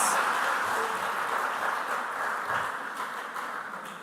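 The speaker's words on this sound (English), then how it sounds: "I want another clap for all the contestants." Sustained applause from a school audience for contestants at a quiz competition quarter-final, a steady dense wash of clapping that holds evenly and fades slightly toward the end.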